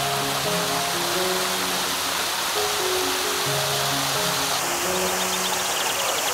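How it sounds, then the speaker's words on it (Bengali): An artificial fountain-style waterfall at an old zamindar manor house in Tangail pours steadily, a continuous close wash of falling water with faint tonal hums underneath, no voices. "ঝর্ণার এই কুলুকুলু শব্দ একটা অন্যরকম অনুভূতি তৈরি করে"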